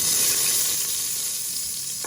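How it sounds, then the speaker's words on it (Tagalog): Steady, close sizzling of sautéing in oil rendered from etag (Filipino cured pork) stock, a continuous bright frying hiss with slight stirring texture and no talk. "magigisa na tayo"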